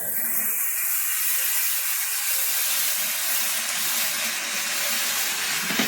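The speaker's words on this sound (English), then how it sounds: "we're going to saute this for 10 minutes" Corn sautéing in butter in a preheated skillet over medium heat, a steady, loud, even hiss of sizzling throughout with no talk.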